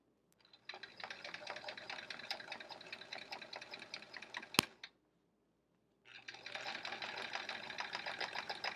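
A sewing machine runs free motion quilting in two fast, even, stitching runs, faint and close, separated by a short pause and a sharp single click.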